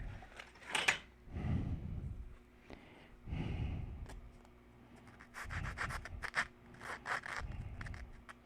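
Sanding tube rubbed back and forth on a model airplane part, giving several close, rasping bursts of scraping in an irregular rhythm with short pauses between strokes.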